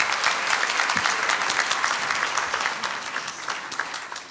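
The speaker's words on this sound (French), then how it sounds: "On peut applaudir Lola." Dense, steady applause fills a baptism celebration for Lola, a crowd clapping loudly and continuously for the full stretch before easing slightly toward the end.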